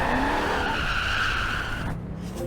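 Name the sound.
1975 Bronco Ranger tires spinning and skidding on throttle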